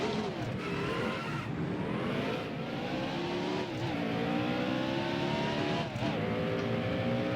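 Stock car engine in NASCAR Heat Evolution game driving out onto the track, a loud continuous roar with rising and falling revs and gear shifts, steady throughout with no talk.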